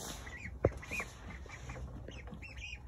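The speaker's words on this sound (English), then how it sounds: "And I hear a little bit of quacking." Soft, high-pitched peeping quacks from young ducks, several brief calls scattered over a low background hum, fairly faint.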